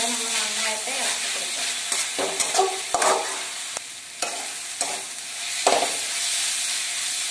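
Tomato masala for a chicken varattiyathu sizzles in a pan under repeated stirring, with distinct spoon scrapes and clacks punctuating a continuous frying hiss, close and fairly loud.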